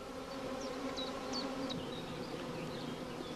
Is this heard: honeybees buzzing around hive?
yes